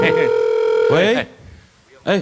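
A telephone being dialed to call relatives gives off a steady electronic tone for nearly a second before a voice cuts in. Another voice follows briefly at the end.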